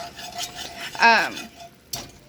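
Melting cream cheese sauce with onions swirled in a pan: soft scraping and stirring with a brief ringing metallic clink from a utensil on the pan, close and quiet, alongside a light sizzle.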